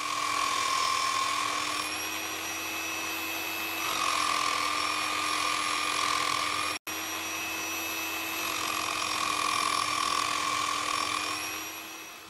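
A Nirey KE 280 electric knife sharpener grinds at stage 2 under light down pressure, making a steady high motor whine with a sustained tonal ring that swells and eases in long waves, with one brief cutoff midway.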